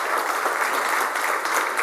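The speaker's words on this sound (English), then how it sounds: "Give Lawrence a round of applause." A dense, loud crowd at a political rally breaks into steady, continuous applause for Lawrence Thomas, with no pauses in the clapping.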